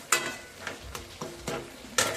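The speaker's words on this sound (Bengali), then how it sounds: "তরকারিটা ভালো করে কষাবো, কষিয়ে কষিয়ে একদম শুকনো হয়ে গেলে নামাবো" Vegetable curry of flat beans, aubergine, broad beans, potato and fish head is stirred and fried dry in a kadai, with a few scraping stirs over a soft, steady sizzle.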